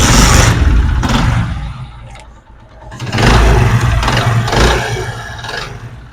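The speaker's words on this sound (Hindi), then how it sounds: "अभी मैं बाइक स्टार्ट करता हूँ, आपको बाइक का साउंड जो है आवाज़ वो आपको चेक कराते हैं" A Honda CD 70 motorcycle engine with a connecting rod fault runs loud and close, a rough mechanical roar that dips briefly and then swells again, with no talking.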